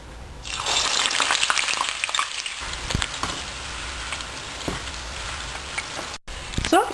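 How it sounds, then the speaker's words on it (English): Sliced onion deep-fries in hot oil with a loud, dense, continuous sizzle and bubbling crackle, close up, with faint clinks of a utensil and no speech. "Next I'm going to deep fry this sliced onion."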